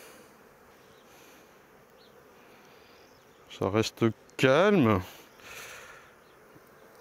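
A low, steady hum of many calm honeybees buzzing in an open hive runs throughout, with a person speaking briefly over it in the middle.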